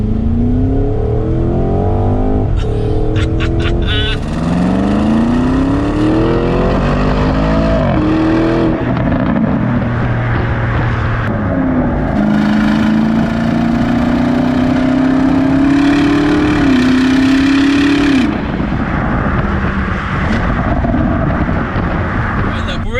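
A powerful turbocharged 2021 Porsche Cayenne GTS Coupe engine revs hard and climbs through gears, roaring loudly with rising pitch sweeps and brief drops between shifts.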